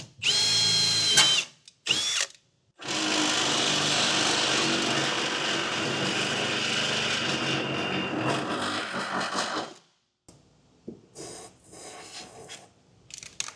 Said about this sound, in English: I'm gonna mark the holes, drill them with the 1/8,